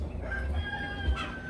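A rooster crows once at moderate distance, a drawn-out call over a low background hum.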